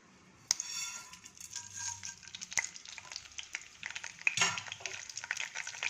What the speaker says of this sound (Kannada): ಇದೆಲ್ಲ ಸ್ವಲ್ಪ ಚಟಪಟ ಅಂತ ಸಿಡಿಲಿ.